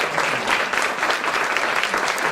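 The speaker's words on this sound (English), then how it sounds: "Let's give her a round of applause." Dense, sustained applause from a lunch-event audience, many hands clapping at once in a steady wash that stays loud and even throughout.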